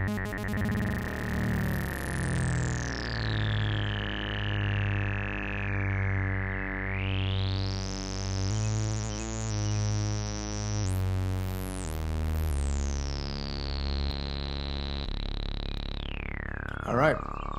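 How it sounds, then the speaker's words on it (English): A squelchy acid synthesizer in the TD-3 style plays a UK rave-type line. It has sweeping resonant filter glides, throbbing low notes and sharp high squeals, and sounds loud and alone throughout. "We're getting into some TB3, TD3 category, that squelchy, you know, that UK style rave sound."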